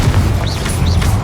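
In Hogwarts Legacy on PS5, the Confringo explosive spell goes off as a deep, loud booming blast with swooping whooshes layered over the rumble.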